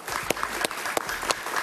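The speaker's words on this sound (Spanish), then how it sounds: "Un aplauso para Marcos Carmona, por favor." Studio audience applause welcoming a guest on a Spanish-language political talk show, a short burst of steady clapping with a few sharper claps standing out.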